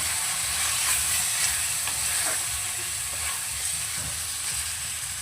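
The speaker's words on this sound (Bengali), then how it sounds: "এবার সমস্ত কিছুটা দিয়ে ভালো করে কষিয়ে নেব" Chilli powder and spices for a prawn curry fry steadily in a pan, a continuous close sizzle with occasional stirring clicks and no voices.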